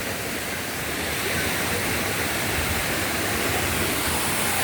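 Soochippara waterfall in Wayanad roars in a dense, continuous rush of falling water, loud and close from the bottom of the falls, steady with no voices.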